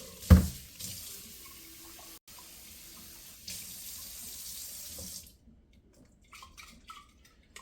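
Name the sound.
draining and rinsing broccoli sprouts with tap water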